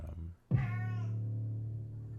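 A house cat lets out a single drawn-out meow, fairly close and clear, after a short soft sound, with no talk over it.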